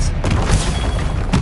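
Loud booming blasts from Confringo and Expelliarmus spells in the video game Hogwarts Legacy, a heavy rumbling explosion that fills the clip and ends with another burst.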